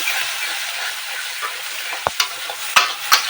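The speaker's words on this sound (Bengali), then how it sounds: "আমি এগুলোকে দিয়ে ভালো করে মশলাটাকে কষিয়ে নেব" Spice paste of chili, turmeric, cumin and coriander powder with salt sizzles in hot oil for a Bengali prawn do pyaza, a continuous close hiss broken by several sharp spatula scrapes and clanks against the pan near the end.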